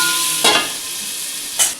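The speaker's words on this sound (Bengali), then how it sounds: "আলুটা তো এইমাত্র দিলাম একটু ভালো করে আলুটাও বেশ ভাজা ভাজা হবে" Steady sizzling of potatoes frying in a pan, with two brief louder bursts of stirring and scraping.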